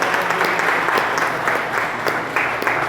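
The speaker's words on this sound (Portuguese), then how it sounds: "Uma salva de palmas para Fabiana." Loud, sustained applause from attendees at a political party meeting in Rio de Janeiro, many hands clapping steadily and close, with small surges in intensity.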